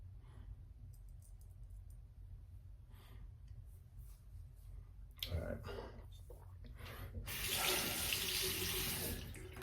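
Water running from a tap during a straight razor shave, starting and stopping in bursts before a louder steady flow near the end, close and fairly loud.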